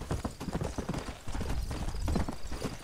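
Horse hooves galloping in the Red Dead Redemption video game, a fast, steady clip-clop rhythm that is close and continuous throughout.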